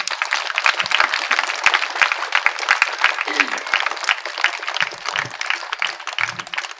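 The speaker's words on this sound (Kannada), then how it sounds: "ಕಾವ್ಯ ಮೇಡಮ್ ಅವರಿಗೆ ಒಂದು ದೊಡ್ಡ ಜೋರಾದ ಚಪ್ಪಾಳೆ." An audience at a talk on meditation and self-study breaks into a big round of applause, with dense, steady clapping carrying on from start to finish.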